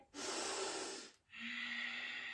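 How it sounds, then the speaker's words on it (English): Deep breathing during a flow yoga class: a long, loud, airy inhale followed by a brief pause and a sustained exhale, close to the listener and with no talk over it. "Keep breathing here."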